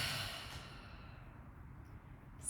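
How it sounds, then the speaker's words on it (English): A single long, forceful exhale during a breathing exercise, breathy and airy, tapering off steadily over a couple of seconds with a faint sharp catch at the very end. "Exhale all the air out"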